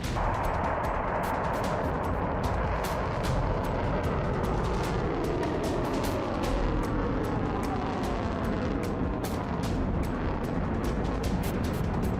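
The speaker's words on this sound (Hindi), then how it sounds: "इजराइल के तेल अवीव में मिसाइल के टकराने से भी जोरदार विस्फोट हुआ।" Missile strikes over Tel Aviv produce a dense, continuous barrage of booms and sharp cracks. The blasts come in irregular bursts over a heavy roar, loud throughout and without voices.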